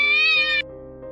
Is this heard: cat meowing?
yes